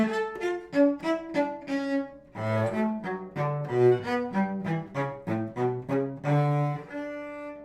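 A cello piece played at a moderate tempo, as a run of distinct bowed notes in an even rhythm. The tone is close and clear, with a short gap partway through and no talking.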